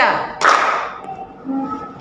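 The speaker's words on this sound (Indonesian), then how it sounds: "Selamat siang, tepuk tangan 1 kali." A classroom of students claps once in unison, one sharp, loud burst of hands, followed by a short, faint tail of room sound.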